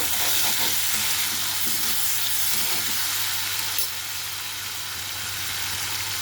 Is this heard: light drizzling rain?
no